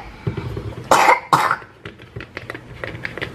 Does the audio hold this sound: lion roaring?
no